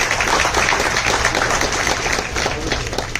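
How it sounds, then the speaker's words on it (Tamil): Audience applause at a film event honoring a national award-winning makeup artist, a dense, loud, continuous clapping from a crowd that holds steady throughout. "அவருக்கு ஒரு நல்ல கைத்தட்டு"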